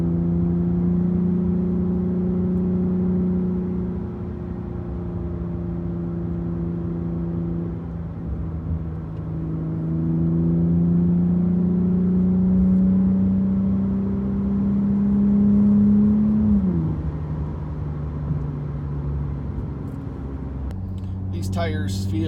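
An Infiniti Q50 on Lexani LX 20 tires (255/40/19 front, 275/35/19 rear) rolls over wet and dry pavement with a steady low engine drone and road hum that gently rises and falls, heard from inside the car.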